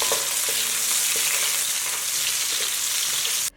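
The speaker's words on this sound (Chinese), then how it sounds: "随后用铲子翻炒，" Pork belly sizzles loudly in a hot wok while a spatula stirs it, with repeated scraping strokes over continuous frying noise, close and busy, until it cuts off at the end.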